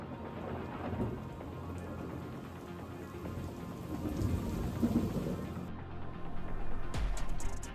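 Thunderstorm north of Houston with steady heavy rain pattering on surfaces and low rolling thunder building in the distance, ending in a sharper nearby crack.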